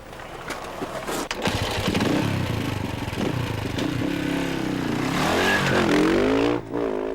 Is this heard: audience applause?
no